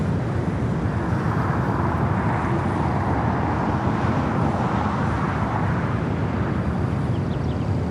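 An American Airlines Boeing 777-200ER jet at LAX, taxiing in the alleyway between Terminal 4 and Tom Bradley, gives off a steady, loud, broadband engine roar that holds constant throughout, with no talk.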